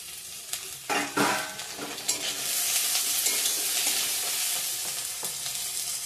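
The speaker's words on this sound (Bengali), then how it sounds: "পেঁয়াজটা ভালো করে ভেজে নেব। আদাটা দিয়ে দিলাম, টমেটো দিয়ে দিলাম" Chopped onion, ginger and tomato fry in a pan, starting with a few spatula clacks and then settling into a bright, continuous close sizzle with occasional stirring scrapes, and no voices.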